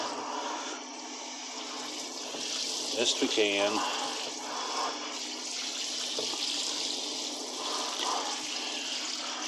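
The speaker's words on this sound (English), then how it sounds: "So we're gonna rinse it with plain old cold water." Plain cold water runs steadily over a large 24 by 36 inch cyanotype print, a continuous splashing rinse with a brief gurgle partway through and a voice speaking over it.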